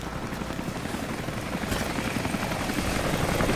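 A helicopter in the video game Rise of the Tomb Raider, its rotor beating loud and close in a dense continuous roar that swells slightly, with no speech over it.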